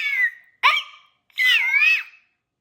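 A voice imitates a baby lion cub's roar with three short, high, squeaky cries, the last one longer and wavering, each separated by brief silence.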